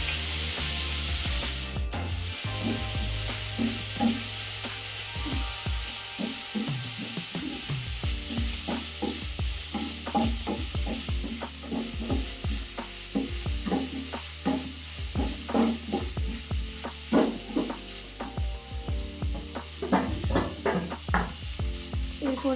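Chicken bones coated in masala sizzle in a pan while a spatula stirs and scrapes them in a steady, busy rhythm of clicks and scrapes over a constant frying hiss.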